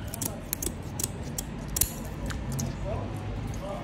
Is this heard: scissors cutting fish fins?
yes